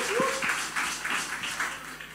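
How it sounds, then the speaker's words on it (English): A children's church service audience claps for a young participant, a brief, moderately loud patter of hands with a few distinct claps and light voices underneath. "Please clap for her, please."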